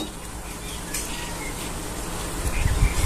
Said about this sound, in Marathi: आता आपण साधे पोहे तळून घेऊया